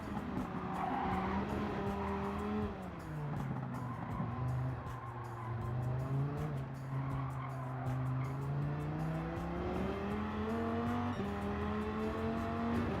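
In a racing video game, a street car's engine drones around the Nordschleife and shifts pitch continuously, climbing and dipping through gears, with faint tire squeal and ticking clicks throughout, steady and fairly quiet.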